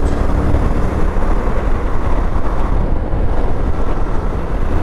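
Honda motorcycle accelerating to overtake on the road, heard as a loud, steady roar of engine drone and rushing wind buffeting the microphone, with no talking.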